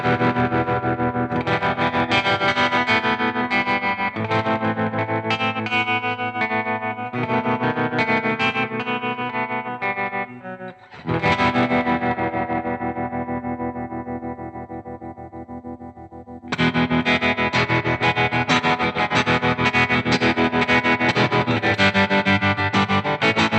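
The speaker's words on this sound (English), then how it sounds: "the more dynamic and choppier sound of the optical tremolos best suit styles like rock and surf guitar" Distorted electric guitar through a Boss TR-2 optical tremolo pedal, chords pulsing in a choppy, dramatic throb, with a sustained chord stretch in the middle before the rhythmic pulsing resumes, loud and without talk.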